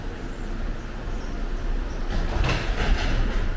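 An airport tram's sliding doors close over a steady low rumble of the vehicle, a brief rising whoosh and thud near the end, with no talking.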